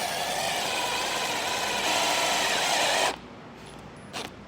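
A power driver runs continuously for about three seconds, driving round-head square-bit screws into a Solera slide-out awning rail on a 2024 Jayco Jay Feather RV. It then stops, leaving a faint short whir.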